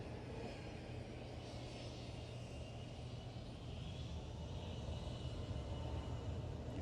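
Embraer KC-390 military transport aircraft flying a demonstration at the 2018 Farnborough Airshow, its engine roar a steady, fairly distant drone with broad rumble that holds without pause.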